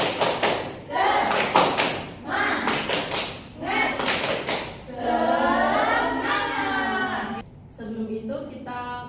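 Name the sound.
class doing rhythmic "tepuk semangat" clapping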